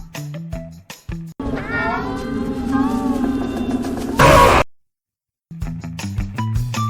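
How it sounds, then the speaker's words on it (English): The Smile Cat monster from the video game Zoonomaly lets out a long, wavering, drawn-out meow that ends in a harsh burst, preceded and followed by short musical game cues, loud and alone. "Very good, it's Smile Cat"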